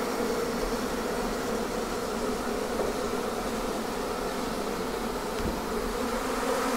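A swarm of honey bees at an observation hive gives a dense, continuous buzzing drone that stays loud and steady throughout, with no voices.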